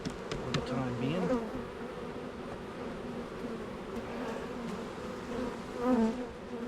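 A swarm of bees buzzes around a swarm trap being set up at a hive, a dense continuous drone with individual insects whining close past the ear now and then.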